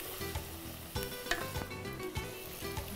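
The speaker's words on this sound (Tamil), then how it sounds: "இதில் இஞ்சி பூண்டு அரவை போட்டு நல்லா வதக்கிறோம்." Onion, ginger-garlic paste and tomato fry in a pan with a soft, continuous sizzle, punctuated by light stirring clicks and scrapes.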